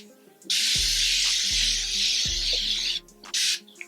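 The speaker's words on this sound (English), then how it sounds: "We gave a good spray. I think I sprayed too much." A long continuous hiss of makeup setting spray misting from a pump spray bottle, close and loud, followed by a second shorter burst, with soft background music underneath.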